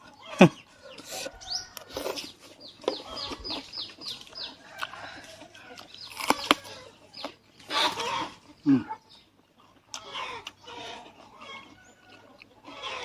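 Rooster crowing and clucking among chickens on a Thai farm, several calls spread through the clip at moderate distance, with faint talk now and then in the background.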